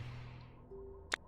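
A single sharp, bright knock-like impact comes near the end, brief and clear over quiet background hum, like an object bouncing off a wall in the game Spheriums.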